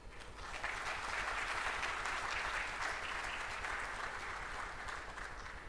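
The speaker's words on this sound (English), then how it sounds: "A big round of applause for S&T." An audience at a live S&T brand launch event breaks into a full round of applause, with dense, steady clapping that holds for several seconds and fades slightly at the end.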